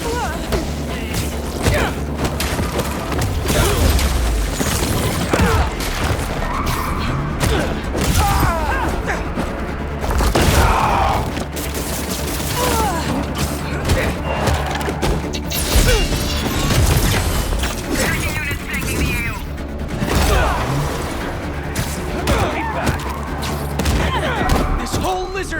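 Gunfire and crashing impacts from a combat scene in the video game Marvel's Spider-Man 2, dense and continuous with booms and thuds, mixed with game music and effects throughout.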